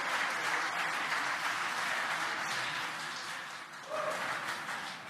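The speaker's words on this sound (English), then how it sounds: "You can hear the applause behind us." Room of people applauding a SpaceX Dragon Crew-4 return landing, steady clapping that runs on, dips slightly near the end, then swells again briefly.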